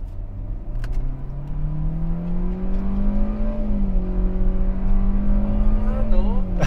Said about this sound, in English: So you will hear more of the revs because it's holding on to the gear until 6500 RPM.